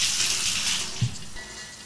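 Water gushes out of an upturned drinking glass in a short, close splashy pour that fades over about two seconds, with no talking.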